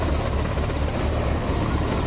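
An Air Force rescue helicopter flies over flooded Jamnagar, its loud, steady rotor thrum and engine roar filling the air without pause.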